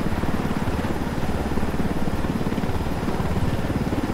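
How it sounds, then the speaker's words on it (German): Helicopter in the video game Ghost Recon Wildlands, a steady, close rotor and engine drone with a rapid chopping pulse, holding at even loudness throughout with no talk. "Und die haben da auch einen Helikopter."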